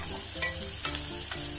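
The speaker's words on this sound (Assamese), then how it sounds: "নতুন আলু এইখিনিও ভাজি লওঁ" New potatoes and onion sizzling in hot oil in a wok, with a steady fry hiss broken by three sharp scrapes of stirring spaced evenly apart.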